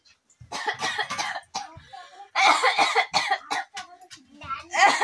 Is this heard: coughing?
yes